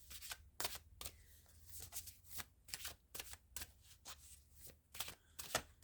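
A Mystical Wisdom Oracle card deck being shuffled by hand, with repeated crisp riffling bursts in an uneven rhythm. Close, clear and with no talking.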